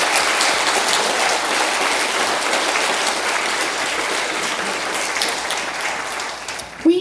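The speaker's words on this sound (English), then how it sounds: "So let's give them all a round of applause for their hard work." Sustained applause from a theatre audience at a playhouse, honouring the event organizers; dense, steady clapping fills the room for several seconds before tapering off near the end.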